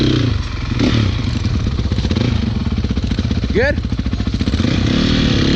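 A dirt bike engine revs in a pulsing, close drone while riding over sand hills, with scrapes and clatter mixed in and a short spoken word partway through.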